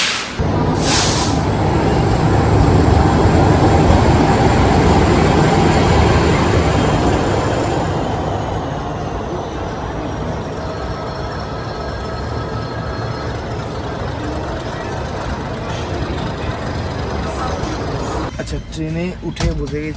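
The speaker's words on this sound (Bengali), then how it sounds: "আঠেরো নম্বর প্ল্যাটফর্মে ঢুকছে হচ্ছে গীতাঞ্জলি এক্সপ্রেস" The Mumbai-Howrah Gitanjali Express (12859) rumbles loudly into platform 18, with a hiss of air brakes and a busy, echoing crowd murmur around it.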